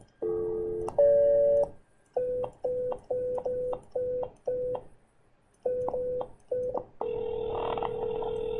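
Phone tones while a telephone dials out: a short run of steady beeps, each cleanly separated by gaps, then a longer sustained tone at the end, alone and close, no voices.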